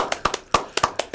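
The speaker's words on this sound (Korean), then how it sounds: "자, 박수." Short, sparse claps from a small group in a Korean university admissions interview setting, congratulating a newly admitted medical student; about eight distinct sharp claps, close and uneven, with no speech.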